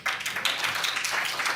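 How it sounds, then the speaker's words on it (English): A short burst of audience clapping at a city council meeting, a brisk, even patter lasting just over a second. "Please contain your applause."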